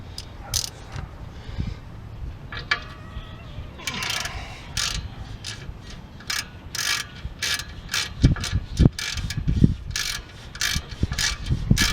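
Ratchet wrench snugging bolts on the rear brakes of a Ford Explorer during a rotor and pad replacement, giving bursts of rapid close clicking that quicken and grow louder toward the end, with no talk.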